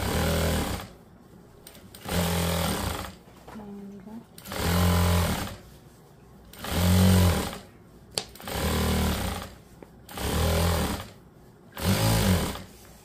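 Sewing machine stitching a two-colour lehenga, six loud close bursts of rapid whirring stitching, each lasting about a second, separated by short quiet pauses with faint handling sounds.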